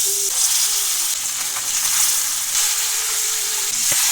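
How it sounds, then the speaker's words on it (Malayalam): Fish sizzling in hot coconut oil with curry leaves in a pan, a loud, continuous close-up frying hiss that crackles steadily throughout with no talking. "അതിലേക്ക് കറിവേപ്പില ഇട്ട് കൊടുത്ത് മീൻ നമുക്കിനി വറുത്തെടുക്കാം"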